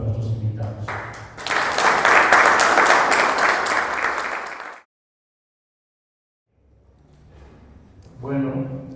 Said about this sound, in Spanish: quisiera pedir un fuerte aplauso para nuestros invitados